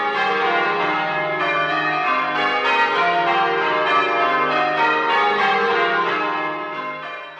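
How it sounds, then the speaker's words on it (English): Church bells ringing out lusty peals at Christmas, a loud dense clangor of overlapping struck tones sounding continuously before fading slightly at the end. "The churches began ringing out the lustiest peals he had ever heard."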